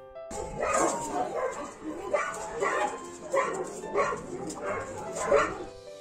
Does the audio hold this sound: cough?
no